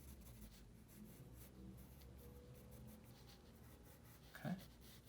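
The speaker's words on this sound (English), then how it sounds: "I might just grab something like a 3B over here and just add, again, some finer points to these" A 3B graphite pencil drawing fine lines on paper to sketch an almond, faint close scratchy strokes with a soft rub, very quiet, and a brief louder tap or scrape near the end.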